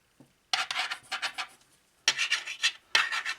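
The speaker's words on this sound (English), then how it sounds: "That metal buckle, when I was fooling with it, kept dragging on the desk work surface here." Metal buckle of a neck gaiter dragging across a desk work surface in three rough, rasping scrapes, each a burst of short rubbing strokes, close and fairly loud with brief pauses between.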